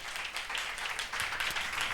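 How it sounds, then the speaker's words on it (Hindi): Church congregation applauding loudly during a live sermon, a steady wash of clapping that holds through the moment. "तालियां बजाएंगे,"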